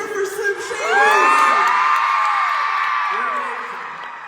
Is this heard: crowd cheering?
yes